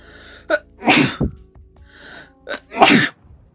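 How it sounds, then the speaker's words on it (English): Two loud, close sneezes, each starting with a quick sharp intake of breath before the explosive burst, separated by a short quiet gap. "There's 2 videos now in a row where I've sneezed doing my makeup."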